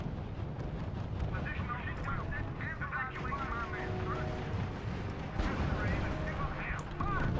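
Sustained gunfire striking a unit in the WWII strategy game R.U.S.E, with dense crackling volleys and distant rumbling under ongoing battle noise and radio-style voices.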